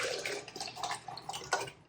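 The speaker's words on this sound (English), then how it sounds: "I'm just going to pour it in." Homemade cashew and hemp seed milk, unstrained, is poured from a blender jar into a container, giving a short, close, splashy gurgle that swells and fades over about two seconds.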